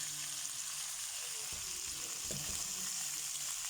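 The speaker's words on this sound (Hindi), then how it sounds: "फ्राई हो रहा है हमारा चिकन" Pieces of chicken for chicken karahi sizzle and fry in hot oil, a steady close crackling hiss with a few louder bursts as the pieces are stirred.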